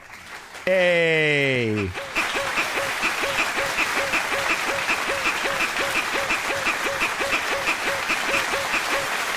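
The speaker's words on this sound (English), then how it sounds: "Let's use the clapping sound." A canned clapping sound effect on a podcast, steady rhythmic claps running for several seconds after a brief loud harmonic tone and a short spoken word at the start.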